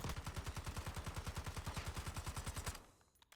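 Model L rifle with a muzzle brake fires in a video game: a steady fully automatic burst of about twenty-five evenly spaced shots lasting close to three seconds, loud and up front, stopping abruptly with a brief tail.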